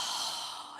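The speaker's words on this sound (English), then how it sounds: "Exhale through your mouth." A breathy exhale through the mouth during yoga breathing, a single soft airy rush that fades out, close and quiet.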